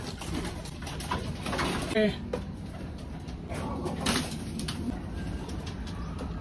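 Pet pigeons coo in soft, repeated low calls close by, mixed with wing flutters and rustling in an outdoor coop, while someone talks briefly over them.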